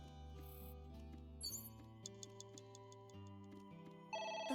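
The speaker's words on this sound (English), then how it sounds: "The phone is ringing." A telephone rings in the video game AI: The Somnium Files, a faint electronic ringtone that repeats in short tones over a steady synth music bed.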